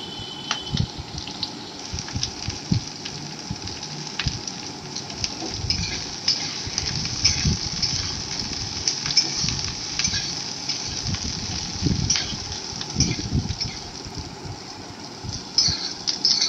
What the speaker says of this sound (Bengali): একটা কড়াতে সামান্য পরিমাণে একটু তেল নিয়ে তাতে আদা, রসুন, 2-4টে কাঁচা লঙ্কা ও টুকরো করা পেঁয়াজ দিয়ে একটু নাড়াচাড়া করে নিচ্ছি।